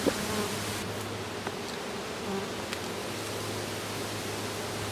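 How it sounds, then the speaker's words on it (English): Honey bees buzzing inside a hive box in a bee yard, a steady low hum filling the whole stretch with a faint rustle now and then. "we got a box full of bees"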